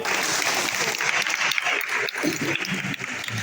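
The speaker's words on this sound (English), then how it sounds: "clap for them" Steady applause from a crowd of physical education teachers at a capacity-building workshop in Uganda, dense and continuous throughout with a few louder bursts, filling a large room.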